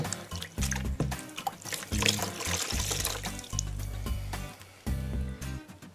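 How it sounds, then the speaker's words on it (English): Running water streams from a tap as a piece of wet felt is rinsed, with the flow rising and dropping in uneven bursts and splashing close by. "Give it another little rinse."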